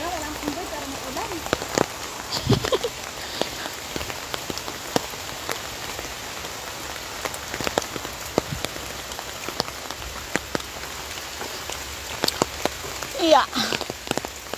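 Steady rain patters on a forest trail and the leaves around it, with scattered louder drops over a constant wet hiss that continues throughout.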